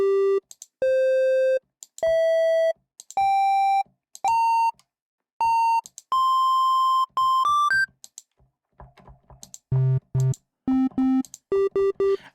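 Pure sine-like tones from additive synthesis in SynthMaster 2, a run of short beeps stepping upward in pitch with gaps between them, followed by quicker, denser stuttering tones toward the end, with no talking.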